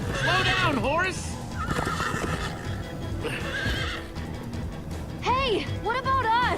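Loud, shrill whinnies from a horse in the Minecraft Story Mode video game come in bursts at the start and end, over rapid clip-clop galloping and voices talking.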